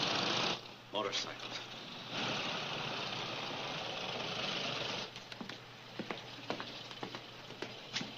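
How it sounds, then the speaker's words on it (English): Motorcycles idle with a dense, continuous engine rumble that swells after a short pause and runs for several seconds before cutting off. Sharp clicks and knocks follow. "Motorcycles."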